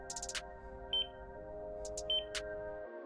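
Short high electronic beeps from pressing the buttons of a color-change digital alarm clock come in quick bursts, a cluster at the start and a few more later, over a low steady background hum.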